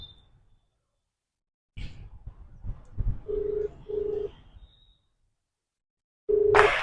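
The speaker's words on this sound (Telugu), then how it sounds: "మళ్ళీ ఒకసారి మా డాడీ ఫోన్ చేద్దాం" Phone call tones: a short tone, a stretch of muffled noise, then two steady ringback-style beeps and a third beep with a noisy burst at the end.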